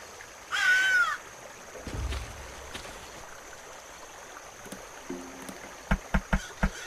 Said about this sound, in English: Someone is being attacked by a crow.